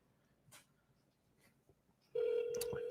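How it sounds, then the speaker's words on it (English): A telephone call is dialled on a second phone, with faint clicks and taps first, then an abrupt, steady electronic tone that starts partway through and holds loud to the end. "Let me call him on this other phone and see where he's at."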